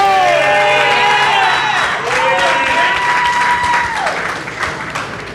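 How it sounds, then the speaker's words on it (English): A crowd at a boxing press conference applauds and cheers young fighters, loud clapping mixed with whoops and shouts, while sliding whistles and voices ring out over the noise before it gradually fades. "give a round of applause to these young fighters"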